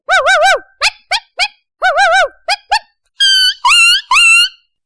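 A performer's voice imitates two dogs fighting in a school variety act, giving loud, close bursts of yelping, whining and snarling squeals in quick, uneven volleys with short silences between.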